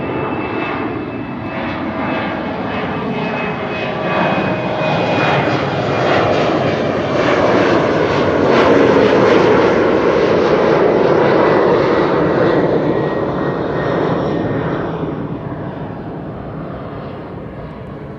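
A KLM Embraer jet at Schiphol Airport roars past, its engine noise swelling to a loud peak midway and then fading, a broad continuous rush with a faint whine, no voices.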